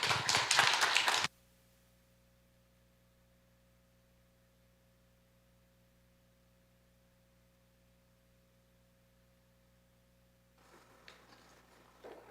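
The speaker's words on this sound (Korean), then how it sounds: "우리 큰 박수로 한번 격려의 박수 보내주시면" Church congregation applauding at a Friday evening worship service in Houston: a loud, dense burst of clapping that cuts off after about a second, leaving a low steady hum and faint room noise.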